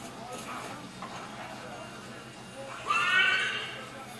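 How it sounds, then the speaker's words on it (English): A horse in Assassin's Creed 3 whinnies briefly in a rising burst near the end, cut off abruptly, with game dialogue and ambient sounds beforehand. "Cut the horse off mid neigh"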